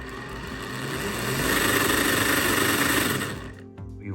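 Defender 110 drivetrain running in low gear, a steady loud mechanical drone and whine that swells slightly in the middle, then drops off abruptly near the end.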